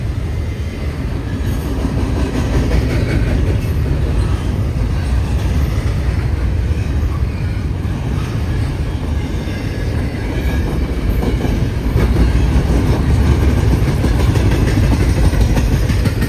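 A freight train with a mid-train DPU locomotive rolls past trackside, a loud, steady rumble of wheels and cars with rhythmic clicking over rail joints and a low engine drone, growing heavier toward the end.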